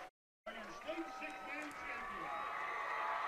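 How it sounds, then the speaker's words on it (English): Crowd noise at the Wild West Bowl high school football state championship as Natoma's fans celebrate, a steady roar rising after a brief silence, heard beneath a commentator's voice. "that crowd from Natoma is making some noise"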